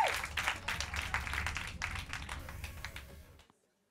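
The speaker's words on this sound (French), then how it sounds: "Je vous demande de lui faire un tonnerre d'applaudissements, s'il vous plaît." A conference audience applauds a speaker introducing a talk on Canva and generative AI. The dense, fairly faint clapping continues steadily for a few seconds, then stops abruptly.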